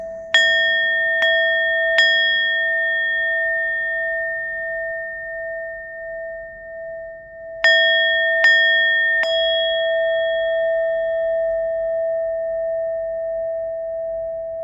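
A 528 Hz singing bowl is struck three times in quick succession, then three more times after a pause. Each strike blooms into a clear, pure ringing tone that sustains and slowly fades between sets.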